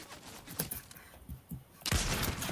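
Gunfire in the video game Fortnite: a few distant shots early, then a loud sustained burst near the end, with game ambience and no clear talk.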